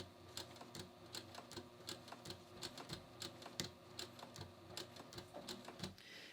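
Sewing machine stitching slowly close along the bottom edge of a garment binding on a front pocket, a quiet rapid run of needle ticks in short uneven bursts, faint and without talk.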